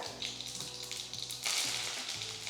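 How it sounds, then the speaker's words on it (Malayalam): Hot oil sizzling with faint popping and crackling as mustard seeds and dried red chili fry, steady and close throughout. "കടുക് പൊട്ടി തുടങ്ങുമ്പോൾ"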